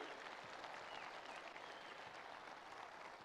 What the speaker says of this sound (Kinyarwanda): Rero ndagira ngo mumfashe n'amashyi menshi cyane, ariko menshi